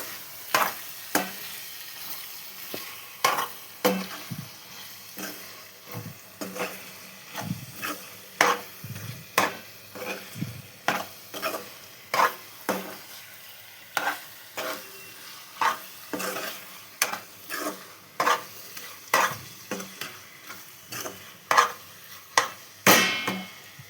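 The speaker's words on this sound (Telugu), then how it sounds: "కారం వేసాం కదండి, ఇది కూడా మంచిగా కలుపుకుందాం" A spoon stirs chili powder into an eggplant and tomato curry in a pan, giving a steady run of close scraping and clacking strokes with faint sizzling underneath and no talk.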